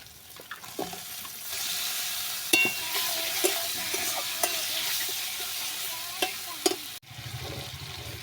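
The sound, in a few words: marinated chicken frying and being stirred in a pan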